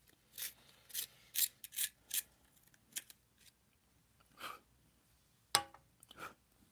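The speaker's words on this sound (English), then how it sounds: "Now I gotta sharpen." Broken pencil being sharpened in a handheld sharpener, a series of quiet, rhythmic scraping and grinding bursts with short gaps, close and faint, no talking.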